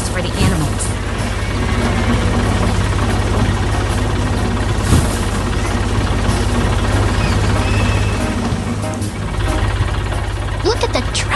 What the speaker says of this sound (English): Look at the tractor go.